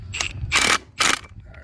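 An old Milwaukee power tool spins a 1/4 inch socket in two short, whirring, ratcheting bursts close by, with a brief pause between them.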